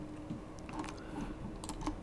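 Typing on a computer keyboard while working with an Arduino Portenta H7 board, a quiet patter of light key clicks running steadily through the short stretch with no talk.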